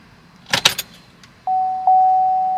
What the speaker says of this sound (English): I'm going to try to cycle the key again.